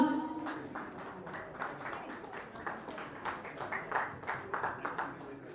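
Applause from an audience at a DMET alumni awards ceremony honoring the class of 2003, a steady patter of many hands clapping at moderate volume, fairly distant, with a roomy wash behind it.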